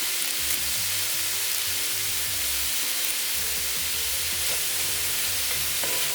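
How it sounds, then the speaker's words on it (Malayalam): Crushed green chilies, garlic, ginger and curry leaves sauté in a pan for a Kerala tapioca and beef biryani, giving a steady close sizzle with soft stirring scrapes throughout and no talking. "നന്നായിട്ട് വഴറ്റിയെടുക്കണം."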